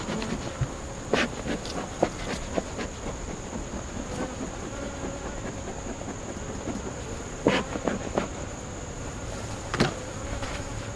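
Honeybees humming in an opened hive make a faint, continuous drone throughout, with occasional sharper knocks and clatters from handling the hive.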